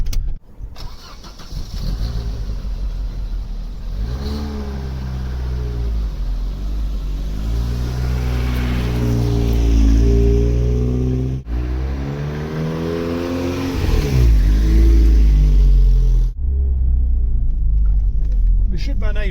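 A Vauxhall Vectra Elite heard from inside while driving on new, balanced tyres: a steady engine drone that rises and falls through gear changes, with road rumble underneath and brief gaps between shifts.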